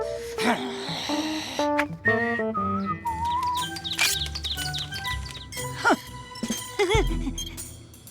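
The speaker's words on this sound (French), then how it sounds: "Va chasser cet oiseau." Cartoon bird whistling and chirping in short melodic bursts, mixed with other bright animated sound effects and music.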